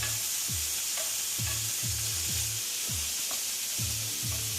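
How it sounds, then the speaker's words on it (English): Beef browning in olive oil in a hot pan, a steady bright sizzle running throughout with a few soft scrapes and knocks of stirring at irregular intervals. "So a little bit of olive oil in a hot pan. Just stir that around till it's nice and crisp and brown."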